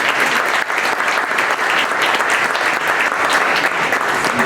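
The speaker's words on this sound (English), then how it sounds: "We have a round of applause for our board members." Loud, dense applause from the audience at a community foundation's fall grant celebration honoring board members, continuous clapping close by with no talking.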